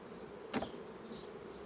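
Honey bees buzz around an aging, declining hive, a faint steady hum with one bee briefly passing close.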